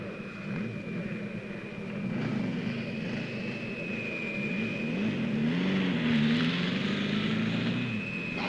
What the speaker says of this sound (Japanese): あのオートバイの音。